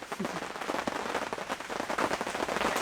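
Dense, steady patter of rain drumming on a taut tent surface nearby, heard from inside the tent while camping in summer, continuous crackling drops with no voices.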